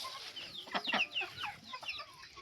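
Chickens cluck in a farm yard near drinkers, a turkey nearby; a steady run of short clucks and calls, moderately close, with no talk.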